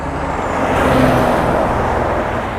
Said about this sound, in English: as soon as the car goes past,